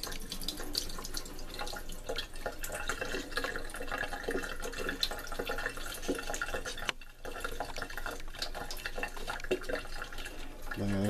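Water seeps and trickles out of a handmade coil basketry basket in a continuous, close, splashy dribble that runs steadily throughout, with one brief dropout partway.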